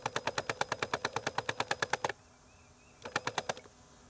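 An EGO autoload string trimmer head on a 15-inch cordless weed eater spins up to wind in fresh trimmer line, giving two loud bursts of rapid, evenly spaced clicking, like a tiny machine gun, separated by a short pause.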